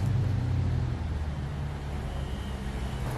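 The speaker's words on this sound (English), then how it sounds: "those turbos sound good" A turbocharged sports car drives along a road nearby, giving a steady, loud, full engine rumble and road roar with no talking over it.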